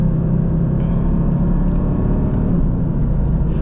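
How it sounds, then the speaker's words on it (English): A Mercedes-AMG GT C with loud exhaust pipes drives on the road, giving a steady, close, deep engine and exhaust rumble that continues unbroken throughout. "I just wanted to give you guys a little sound of that,"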